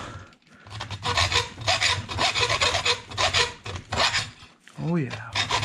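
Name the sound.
chiseling a plastic RC car body by hand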